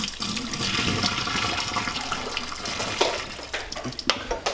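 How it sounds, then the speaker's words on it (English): Cooked ramen noodles are strained as their cooking water pours and drains away, a steady rushing splash up close that thins into scattered drips and gurgles near the end. "So we're gonna strain this."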